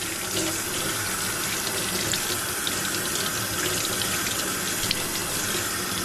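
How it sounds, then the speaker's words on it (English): Cold tap water runs steadily over a freshly skinned fluke fillet, a continuous close hiss and splash of flowing water from a faucet into a sink with no talking. "I'm just gonna rinse it in cold water."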